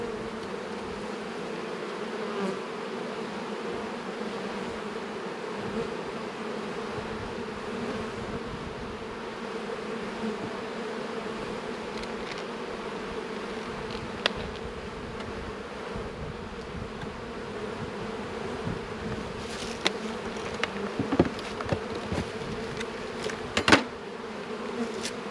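Honey bees swarming around an opened hive during a late March inspection, a dense continuous buzzing drone lasting throughout, close and steady, with a few brief handling knocks near the end.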